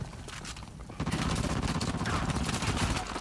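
Rapid gunfire in Uncharted: The Lost Legacy, a dense burst of shots that grows louder and steadier after the first second and keeps going without pause.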